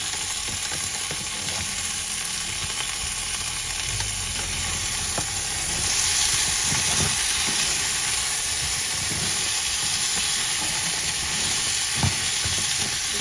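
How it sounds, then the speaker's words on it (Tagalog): Beans, squash and small crab simmering and being stirred in a pan, giving a steady close sizzle and hiss with soft scraping stirs and a few clinks, no voices. "I-mix lang natin guys."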